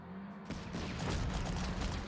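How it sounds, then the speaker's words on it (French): Artillery fire in the Panzer Corps wargame: a dull boom at the start swells into a sustained, dense rumble of explosions and gunfire that stays loud and broadband to the end. "un petit tir d'artillerie. Toujours cette petite artillerie."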